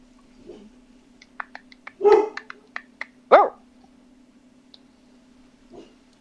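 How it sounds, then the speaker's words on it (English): A dog barks in a quiet room, a few sharp yips and two louder, fuller barks spaced across several seconds, close and clear over a low steady hum. "Who in the chat just barked?"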